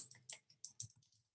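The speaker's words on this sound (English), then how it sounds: "Let me just type it" Quick, uneven keystrokes on a computer keyboard during a social media training session, several crisp taps in short bursts, faint and close with no talk over them.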